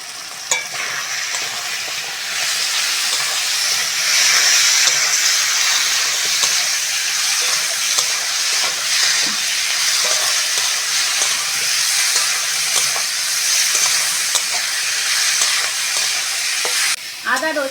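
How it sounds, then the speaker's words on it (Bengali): Potatoes and green chillies frying in a pan with ginger, garlic and onion, giving a constant, fairly loud sizzle with stirring scrapes and spatters throughout, and no talking. "আলু আর কাঁচা লঙ্কাটা দিয়ে দেবো।"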